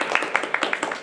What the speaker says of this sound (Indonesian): tepuk tangan dong buat PKA